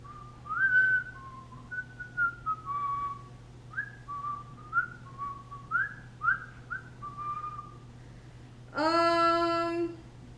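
A person whistles a wandering, stepwise melody of short phrases over a steady low hum, ending with a sustained, brighter whistled note.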